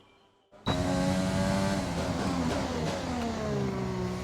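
A Formula One race car engine in the F1 2020 racing game cuts in abruptly after a brief quiet moment, then holds a loud, steady high-pitched whine with rising and falling gear tones, alone with no talk.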